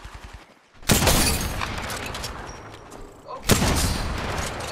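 Bursts of gunfire in the battle game Apex Legends: a loud volley opens after a short quiet moment, trails off, then a second heavy burst erupts, with a brief spoken word near the start.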